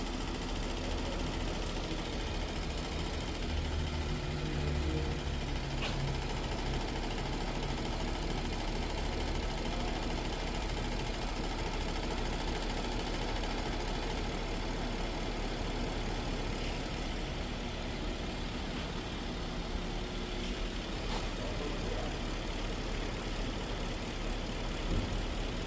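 A Hyundai Equus sits idling, its engine giving a steady, faint low hum that holds evenly throughout with no changes in pace.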